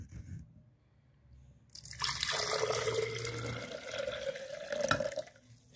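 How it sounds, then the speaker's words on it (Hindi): Freshly made pomegranate juice pours from a grinder jar into a jug, a steady close splashing and gurgling stream that starts abruptly after a quiet moment and runs for several seconds. "अब हम जिस ग्राइंडर से निकाला है उसी जग में डाल लेंगे।"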